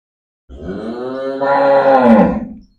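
A calf moos once at a livestock sale, a loud, close, drawn-out call lasting about two seconds and rising in strength toward the end.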